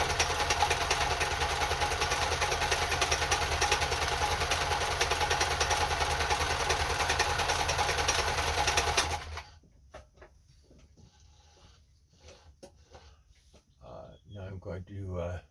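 A Kenmore 10 Stitch sewing machine runs steadily at speed for about nine seconds, sewing a built-up multiple-stitch zigzag with a dense mechanical whir, then stops abruptly, leaving quiet handling clicks and a low hum.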